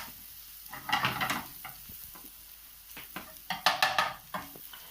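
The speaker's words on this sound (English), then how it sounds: "And so we're just going to cook off the paprika." Bacon and paprika frying in a pan, with bursts of sizzling and the scrape of a utensil stirring, louder near the start and end.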